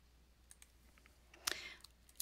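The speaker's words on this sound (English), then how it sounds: "Once again, we're going to click on our feedback." Faint, sparse computer mouse clicks in a quiet room, a handful of light ticks with one sharper, louder click midway.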